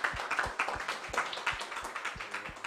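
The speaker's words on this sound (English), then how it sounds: "a big clap to every speaker" An audience applauding the speakers at the close of a EuroDiG 2018 conference session, a steady patter of hand claps with a loose, uneven rhythm from a moderately sized crowd, heard alone without talking.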